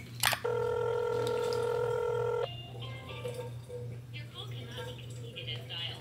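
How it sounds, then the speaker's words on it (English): Phone dialing in the video game Garten of Banban 3: a steady, loud multi-tone beep holds for about two seconds, then gives way to fainter clicks and background sounds with a low hum underneath. "Let me call Jumbo."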